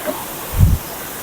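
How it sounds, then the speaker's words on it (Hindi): Rushing water from a Kashmir waterfall in the Himalayas fills the air with a steady, broad roar, broken by one brief low thump midway. "पानी के शोर आ रहा है"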